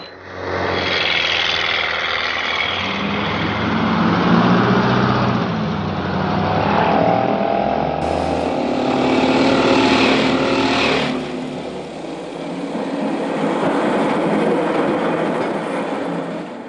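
A 1950 tram climbs a hill near Nijmegen, its steady rumbling, grinding run continuous and fairly loud for the whole stretch, with rising and shifting mechanical tones and no voices.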